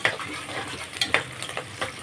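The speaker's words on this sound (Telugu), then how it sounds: "ఆయిల్ వేడెక్కాక ఆనియన్స్ వేసుకోవాలి. ఆనియన్స్ ఇలా వేగుతున్నప్పుడు" Chopped onions fry in hot oil in a pan before mutton is added, giving a steady close-up crackling sizzle broken by a few sharp clicks and scrapes of stirring, with no one talking.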